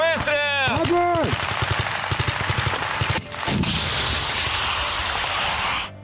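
Gunfire from a military setting: rapid bursts of loud automatic shots crack close by, followed by a sustained roaring blast that trails off at the end, with brief shouting over the start.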